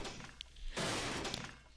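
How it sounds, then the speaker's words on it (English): A sudden crash-like shatter as a bomb is smashed in the Ace Attorney: Dual Destinies video game, a short burst of crunching noise lasting about a second. "Bomb smashing!"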